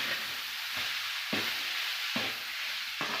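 Spiced fish puttu mixture, made from Jilebi fish with chilli powder and salt, is stirred in a pan with a steady sizzle, scraped by a spoon in several distinct strokes roughly every second.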